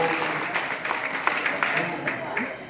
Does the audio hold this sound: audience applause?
yes